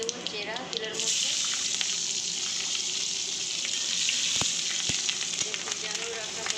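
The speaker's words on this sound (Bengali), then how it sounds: "3টে কাঁচা লঙ্কা দিয়ে দেবো চেরা তেলের মধ্যে" Nigella seeds and slit green chilies hit hot oil, bursting into a loud, bright, continuous sizzle up close, with a few sharp pops and clinks, and faint background voices at the start.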